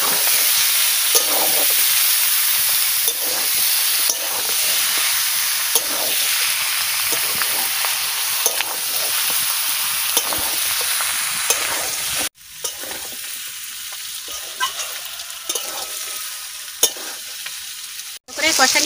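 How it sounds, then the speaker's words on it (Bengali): Duck meat frying and being stirred in hot oil in a wok, a continuous loud sizzle broken by repeated scraping stir strokes, with a brief drop in intensity partway through. "প্রথমের দিকে তেল দিলে মাংস ভালো ভাজা হয় না।"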